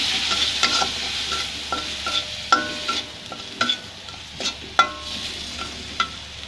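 Spiced egg and cauliflower curry sizzles in a pan while a spoon stirs it, giving soft steady frying with repeated scraping clinks at an uneven rhythm, close up with no talking.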